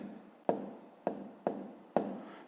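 Numbers being handwritten for a fifth-grade maths exercise: four quiet, sharp pen taps and short scratches against paper at a steady pace, close and soft with no talking.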